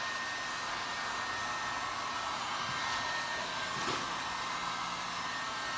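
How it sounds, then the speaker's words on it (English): Heat gun warming vinyl wrap on a Shelby Mustang, a continuous close blowing whoosh that holds steady for the whole stretch with no talking. "if you look at my heat gun"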